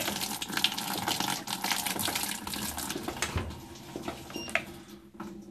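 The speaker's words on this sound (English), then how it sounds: "You will also notice while it is filling, the bowl is not turning." A Fisher & Paykel washing machine fills with water during a rotor position sensor repair, making a steady, close rushing and gushing flow that fades slightly toward the end.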